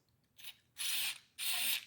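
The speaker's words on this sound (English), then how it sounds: "spray it down the end of the barrel so it goes all the way down" Ballistol lubricant sprayed from an aerosol can down the barrel of an AR-15 rifle, heard as two long hissing bursts after a shorter faint puff, close and alone.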